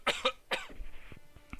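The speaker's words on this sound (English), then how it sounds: "Hold on, I gotta cough for a moment." A person coughs a few times in quick succession, close and fairly quiet, followed by some softer throat noises and breathing.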